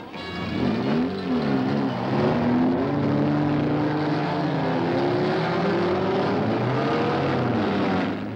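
Massed racing car engines roar together at the start of the 1966 Gallaher 500 at Bathurst, a loud continuous drone with rising revs as the field accelerates away, steady and close throughout.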